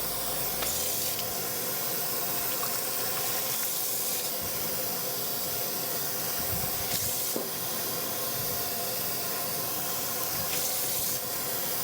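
Steady hissing rush of running water as conditioner is rinsed out of a synthetic wig, continuous and fairly loud with a few brief splashy surges, no voices.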